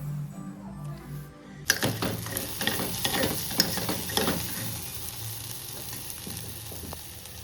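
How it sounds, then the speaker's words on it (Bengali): A spoon stirs khichuri with spinach and pointed gourd in a pot, scraping and clinking in irregular strokes over a soft sizzle, close by, after a brief quiet start. "এদিকে আমি খিচুড়ি রান্না করছি"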